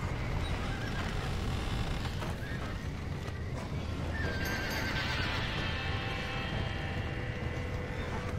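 Horse neighs and galloping hooves from the video game Red Dead Redemption, loud and continuous over a dense in-game soundscape throughout, with a brief high whinny partway through.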